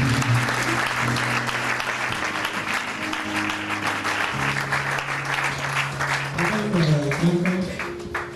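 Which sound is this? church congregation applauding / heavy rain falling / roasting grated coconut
church congregation applauding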